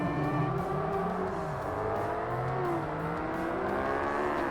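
A Ferrari race car launches from the start in Forza Motorsport, its engine revving hard and climbing through the gears, loud and close with a steady roar and no voices.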